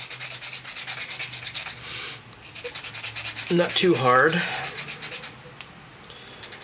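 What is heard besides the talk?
sharpening pencil lead on a sanding block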